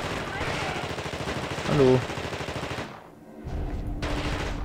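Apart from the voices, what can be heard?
gunfire in video game Das Ding aus einer anderen Welt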